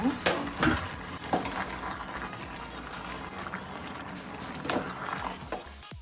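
Cooked amaranth greens palya is mixed in a pan with mustard seeds, with repeated spoon scrapes and soft clatter over a faint sizzle and an occasional wet, squelchy stir.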